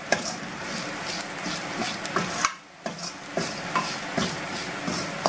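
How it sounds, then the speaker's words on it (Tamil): Coriander and chili powder roast in oil as a utensil stirs and scrapes the pan in repeated strokes, a soft sizzle underneath with a brief pause midway. "இப்படி கொஞ்சம் லேசாக அப்படி கிளறி கிளறி விட்டோம்னா அந்த ஆயிலேயே வந்து அந்த மல்லியும் மிளகாய்த்தூளும் வறுவர"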